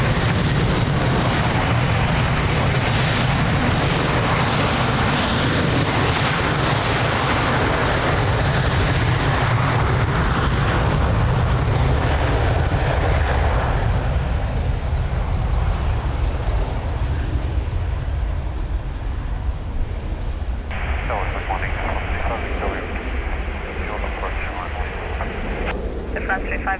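Aircraft taxiing and taking off at Lisbon Airport, a loud, steady, broadband jet roar that lasts throughout and eases slightly toward the end, with air traffic radio voices running over it.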